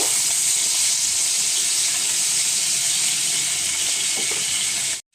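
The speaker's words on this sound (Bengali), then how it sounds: "দিয়ে আমি ভালো করে লাল লাল করে আলুগুলি ভেজে নেব" Diced potatoes fry in hot oil with a steady, close sizzle and crackle that runs unbroken before cutting off abruptly at the end.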